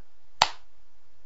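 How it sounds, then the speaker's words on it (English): A single sharp hand clap, close and loud, standing alone in a quiet room with a short bright tail and no talk around it. "Clap."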